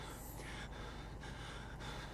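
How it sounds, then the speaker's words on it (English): Heavy, ragged breathing of the player character in the horror game Outlast, a steady run of close gasping breaths with sharp intakes about every half second, loud and unbroken over a low ambient hum. "So much breathing. That guy's gonna hear me breathing."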